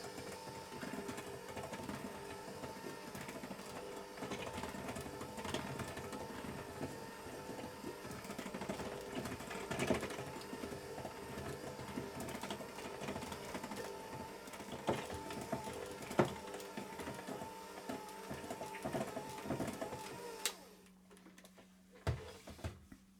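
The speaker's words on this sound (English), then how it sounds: "I'm going to just put my beaters on low speed and mix that in." Electric hand beaters run on low speed through chocolate and orange cookie dough, a steady close mechanical whir with rattling clicks for about twenty seconds before switching off into near silence.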